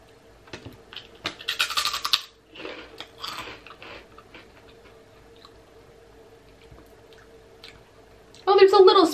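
Crunchy pork rinds being bitten and chewed up close, a few bursts of crisp crunching, then quiet, then a loud final crunch. A person talks around the chewing.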